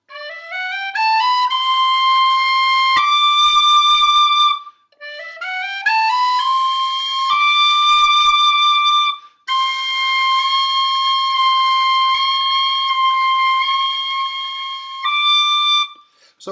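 Tin whistle in D playing a C natural, with bright, loud, clear notes that slide up in short runs and then hold long sustained tones, repeated several times with brief gaps between.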